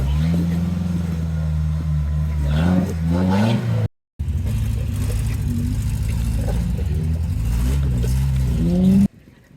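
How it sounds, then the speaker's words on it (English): Heavy engines of two Toyota off-road trucks with large tires rev and labor steadily climbing a hill, a deep rumbling drone rising in pitch, with a brief cut partway through. "The engine sounds you're hearing as Stuart's making his way up the hill in his Land Rover"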